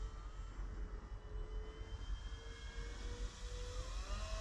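Avios KingTwin 1700mm RC turboprop airplane engine at full throttle during an evening flight, a steady loud whine with shifting tonal pitch over broadband rumble, continuous throughout.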